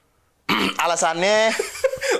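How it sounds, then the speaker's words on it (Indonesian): Up close, a person gives short, rough voiced coughs and throat-clearing bursts after a moment of silence, loud and raspy over about two seconds. "Nah, ini beneran, gue lagi batuk kan."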